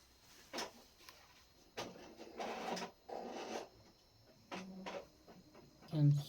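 A printer runs a document through in several short mechanical whirring bursts with quiet gaps, and a voice briefly speaks near the end.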